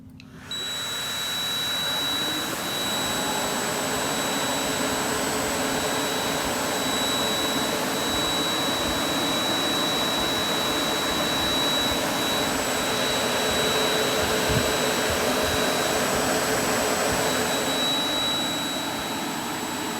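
A Supermicro 4U 48-bay server powers on indoors with a loud, steady roar of cooling fans, holding a constant whine and rushing drone for the whole stretch with no one speaking.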